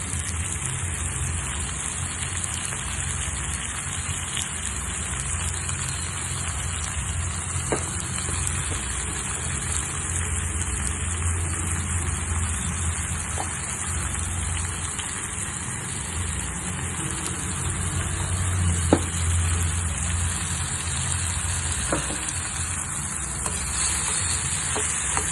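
Prawns and tomato pieces frying in a pan for a prawn and tamarind-leaf curry, a constant rain-like sizzle with scattered light taps and stirring clicks, no talking.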